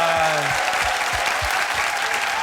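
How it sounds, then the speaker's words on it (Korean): A studio audience on a Korean TV variety show applauds in a dense, loud burst of clapping that holds steady, with a few brief low sounds near the start. "네, 박수 보내주세요."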